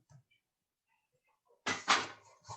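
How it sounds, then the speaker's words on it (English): After a long near-silence, a door thuds shut nearby with a sharp knock and a rattling follow-up, then a brief low sound. "you can close the door."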